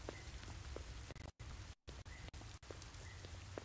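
Rain falls in the video game Deemo II, a steady, even patter of drops on a surface that is briefly cut by short silent gaps, fairly quiet and with no talk over it.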